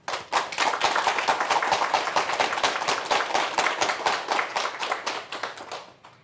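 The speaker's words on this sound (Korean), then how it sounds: "다시 한번 교수님께 큰 박수 부탁드립니다." A lecture audience gives the professor a big round of applause, crisp rhythmic clapping at close range, steady throughout and fading away in the final second.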